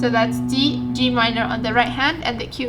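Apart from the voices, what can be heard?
No everyday noise stands out behind the speech.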